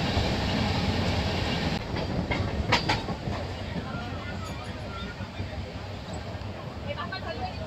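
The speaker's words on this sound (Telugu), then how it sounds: "ఈ 7 కిలోమీటర్స్లో ఎంత స్పీడ్ ఎక్కించిందో చూసారండి బండి" A Visakhapatnam passenger MEMU train runs at speed on the line toward Kottavalasa Junction, heard from inside as a steady loud rumble with rail clatter and a few sharp clicks, while a voice talks over it.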